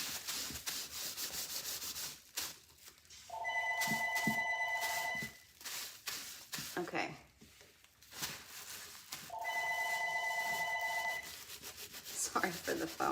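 A telephone rings in two long electronic bursts a few seconds apart, heard in a workshop alongside rubbing and scraping on a wooden box, with a person speaking briefly.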